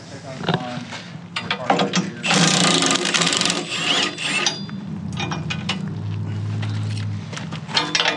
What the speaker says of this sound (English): I busted out the big impact with the snap-on 17